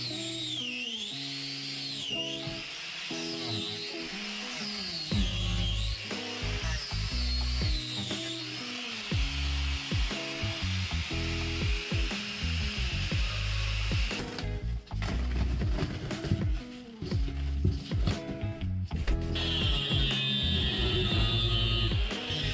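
A power tool fitted with a cutting blade while replacing an RV toilet, a loud close whirring whine with shifting pitch, bursts and pauses as it cuts and spins down.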